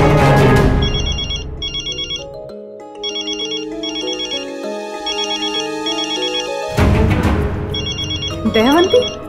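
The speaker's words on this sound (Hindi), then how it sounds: "दयावंती, ये क्यों फोन कर रही है?" A telephone rings with repeated electronic ringtone bursts, clear and prominent, alongside dramatic music swells at the start and end.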